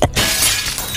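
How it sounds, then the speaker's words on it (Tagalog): Hardened mud cracks apart as a shattering effect in a Filipino action-horror audio drama, a loud, close burst of breaking debris followed by a dense rushing crackle that fills the whole second. "At basag ng mga ginamit ni Dakila na lupa sa kamay at paa nito"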